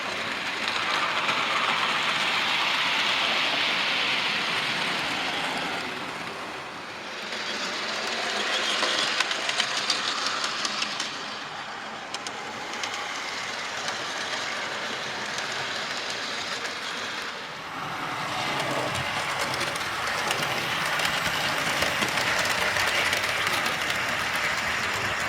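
A model railway Black 5 locomotive running on a layout, a continuous rushing rumble with faint rhythmic clatter that dips briefly twice before swelling again, fairly close.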